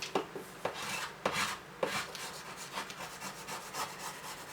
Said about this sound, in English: And then I'm going to take my roller, just do this, or you can take your little squeegee